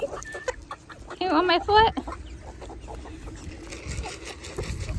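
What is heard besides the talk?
chickens clucking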